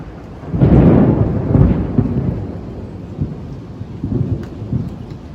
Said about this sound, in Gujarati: લાગે છે કે અત્યારે તો એકદમ વરસાદ આવી જ જવાનો છે.